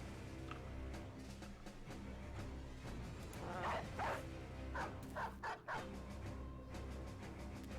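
Dogs in the Battle Brothers video game bark in short bursts over a dense layer of battle noise and music, the barks clustering loudest near the middle of the stretch.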